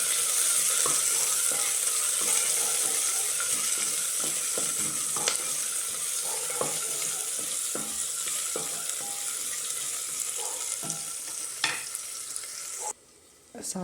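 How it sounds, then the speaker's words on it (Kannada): Chopped onion sizzles and fries steadily in a hot pan for an egg and vegetable stew, with a constant hiss, occasional clicks from stirring, and a brief dip in the sound near the end. "ಈರುಳ್ಳಿ ಅಷ್ಟೇ ಚೆನ್ನಾಗಿ ಫ್ರೈ ಮಾಡ್ಕೊಳ್ಳಿ."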